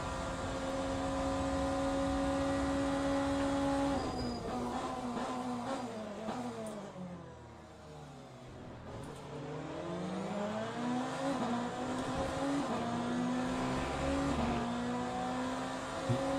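BMW race car in Le Mans Ultimate, its engine droning loud and steady along a straight, then pitch sweeping down through a braking downshift and climbing again as it accelerates, with no talk over it.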